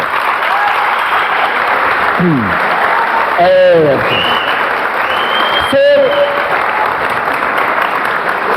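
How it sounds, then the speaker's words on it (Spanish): Steady, loud applause from an audience at a church youth camp, with a few whistles and cheers rising above the clapping. "le demos un fuerte aplauso a todo ese equipo de trabajo"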